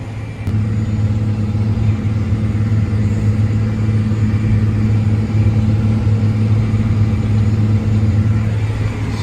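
A John Deere 9560R tractor pulls an Amazone Ceus tillage tool through heavy wheat, its engine giving a loud, steady low drone that holds constant throughout, heard from inside the cab with no talking.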